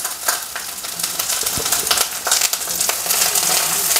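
Curry leaves, garlic and mustard seeds sizzle in hot oil for a mutton dish, a loud, dense, steady hiss and crackle with rapid popping, close up and without speech.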